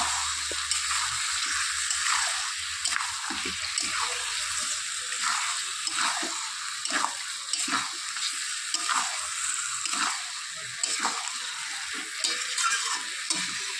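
Chicken being stir-fried with coriander powder and mustard oil for chicken kosha, a steady moderate sizzle broken by repeated scraping stirs of a spatula in the pan, no voices.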